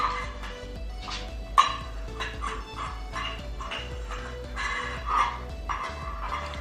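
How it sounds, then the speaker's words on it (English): Several dogs bark and yip in bursts, fairly close and loud, with whimpering yips in between over a steady background hum; no talking. "Ah, dogs."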